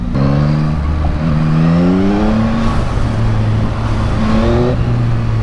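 A Yamaha XSR 900 motorcycle (2025 model) engine revs repeatedly in traffic, its pitch sweeping up and down in several loud, close surges over a steady idle rumble.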